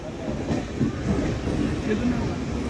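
A train rumbles steadily through Sadar Bazar railway station in Delhi without stopping, with a low, continuous rolling noise and faint rattling, while a voice talks over it nearby.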